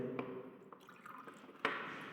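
Water dripping from wet soil into a collecting vessel, a few soft separate drips with one sharper drop near the end, quiet and close with no talking.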